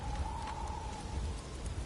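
Storm ambience in the God of War video game, set in the Alfheim desert: a steady, dense roar of wind and driving rain, with a faint thin tone drifting above it and no voices.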